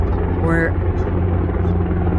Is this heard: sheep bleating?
no